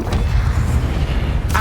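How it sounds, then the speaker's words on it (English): An Expelliarmus spell cast in Hogwarts Legacy lands as a loud, heavy, rumbling blast that fills the short moment and ends with a bright crackle. "Expelliarmus!"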